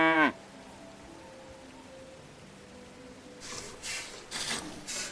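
A single cow moos briefly at the start in the medieval farming game Medieval Dynasty, followed by quiet ambience and then several soft rustling, rubbing sounds near the end.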